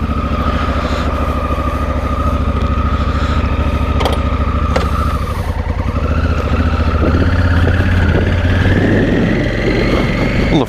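A Honda Africa Twin rides across grass on a warm day, its engine a loud, steady close-up drone with pitch shifts as the throttle changes, alone without talk.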